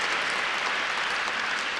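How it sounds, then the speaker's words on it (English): Steady audience applause for Haley at a Variety Power of Women event in New York, dense and even throughout the short stretch. "So please give Haley another round of applause."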